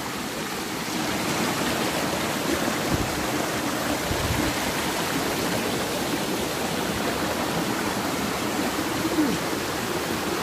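A fresh river stream flows steadily on a forest trekking trail near a waterfall in Sentul, a continuous close rushing wash of water with no voices.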